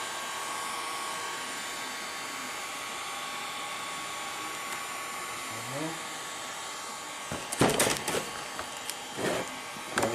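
A heat gun blows a steady whooshing hum while heating a crease on a Nissan Maxima body panel, followed near the end by a few knocks and clatters.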